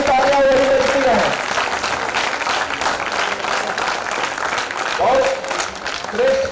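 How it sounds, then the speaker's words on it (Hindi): A crowd applauding at a Hindi poetry gathering, dense sustained clapping that stays loud throughout, while a voice speaks over it at the start and again near the end. "दोनों हाथ उठा करके और मां के सम्मान में तालियां बजाइए"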